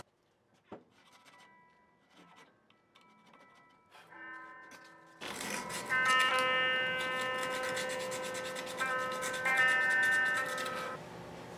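Filing and polishing the string slot of a guitar locking nut, with a few light scrapes and taps, then a louder continuous rubbing that carries through to the end, up close with no talk.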